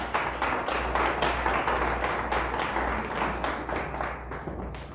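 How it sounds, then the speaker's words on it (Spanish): Congregation at a Spanish-language church service gives God a loud, sustained round of applause, dense clapping filling the room steadily for several seconds and tapering slightly toward the end. "Le damos un fuerte aplauso a Dios."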